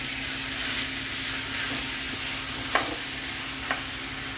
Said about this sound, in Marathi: चमच्याने घालूया आपण, वाटप टाकायचं असं